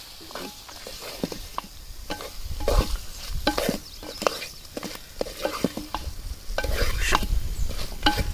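Chicken is tossed and mixed by hand with squeezed lemon juice, producing wet squelching and irregular rustling pats at close range that grow busier toward the end, with no voices.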